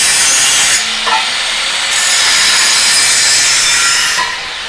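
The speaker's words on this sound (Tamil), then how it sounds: "ஸோ இப்போ ஃபில்டர் கேனை வந்து கட் பண்ணிகிட்ருக்காங்க" Loud, steady abrasive cutting into the metal filter can of a car exhaust on an 800cc Datsun RediGo, a harsh continuous grinding rasp that briefly dips and resumes, with no talking.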